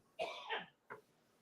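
A person in a live comedy audience coughs twice, a harsh throaty double cough followed by a shorter single cough, fairly close and alone against a quiet room.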